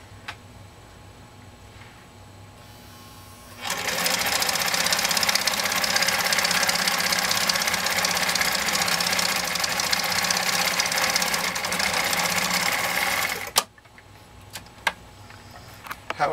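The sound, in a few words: Husqvarna Viking sewing machine sewing through 12 layers of buckram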